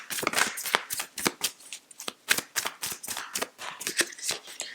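Tarot cards being shuffled by hand, a rapid series of crisp riffling slaps and soft flicks, close and dry, in quick uneven bursts with no voice.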